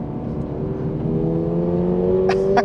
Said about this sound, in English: That exhaust sounds so incredible.